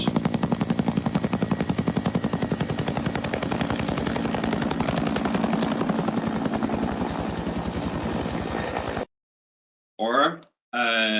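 A helicopter flies in Greenland, its rotor thumping in a fast, steady pulse with a loud engine whine, close and constant for about nine seconds before cutting to silence and a short burst of another sound.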